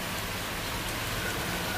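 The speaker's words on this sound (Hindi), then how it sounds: "तेज बारिश हुई है, तेज बारिश हुई है।" Heavy September rain pours down in Delhi NCR as a dense, steady hiss that stays loud and even throughout, with no talking.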